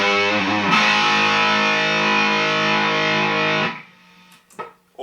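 An electric guitar played through a distortion pedal sustains a thick, buzzing chord for several seconds before cutting off, followed by a few quieter muted clicks and string noises.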